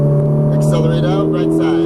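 A Ferrari 458 Italia engine pulls hard on a track, a loud, steady harmonic drone holding pitch through the short burst, with a voice speaking briefly over it.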